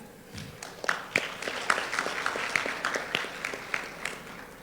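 An audience at a manufacturing industry event claps for a speaker, with sharp individual claps standing out over a softer spread of steady applause at moderate distance.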